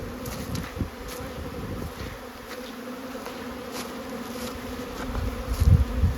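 Honeybees buzzing at a hive during a fall survivor trial, a steady dense hum from many insects with occasional closer fly-bys, continuous and moderately loud throughout.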